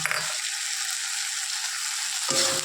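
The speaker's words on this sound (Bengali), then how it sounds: "ঢ্যাঁড়স ভাজা হচ্ছে, পেঁয়াজ দিয়ে দিলাম" Okra and onion frying in oil in a wok, a steady loud sizzle with dense hiss that runs unbroken, with a brief low clatter at the start and end, and no voices.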